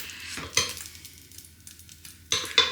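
A hot pie maker spits and sizzles as chicken and leek pies are lifted out with a tablespoon, giving soft crackling with a couple of sharper metallic scrapes, faint and close, without speech.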